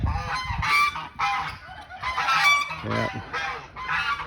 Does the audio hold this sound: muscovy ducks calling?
yes